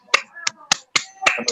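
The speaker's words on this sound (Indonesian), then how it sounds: "silakan sekali lagi tepuk tangan buat mereka" Students in an Indonesian classroom clap for classmates after their presentation, a handful of sharp, separate claps spaced unevenly over a second and a half, close and fairly loud with no talk.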